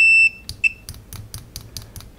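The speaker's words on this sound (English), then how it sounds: "let's quickly have a look at the continuity tester" An RS-14 (CEM-DT914) multimeter's continuity tester gives a sustained high beep, then a short second beep, followed by rapid light clicks of probe tips being tapped or dragged, close and clear with no talking.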